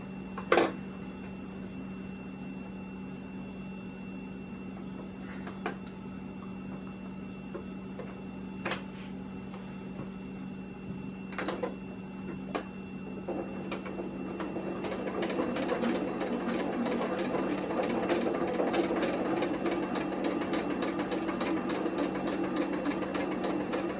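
Sewing machine running a lock stitch on a shoulder strap for a folding table, a close steady mechanical ticking with a low motor hum and a few sharp clicks, growing busier toward the end.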